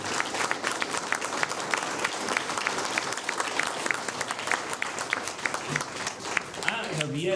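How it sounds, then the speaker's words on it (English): An audience applauding teachers in a community gathering, dense sustained clapping from many hands filling the room throughout, with a voice faintly audible underneath. "Let's give the teachers an applause."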